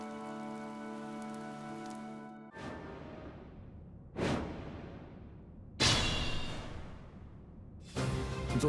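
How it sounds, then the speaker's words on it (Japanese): Heavy rain in the video game Fire Emblem: Three Houses sweeps in as a loud hiss that starts abruptly and surges in repeated waves, each burst fading before the next, following a low tonal drone at the start. "雨が強くなってきた"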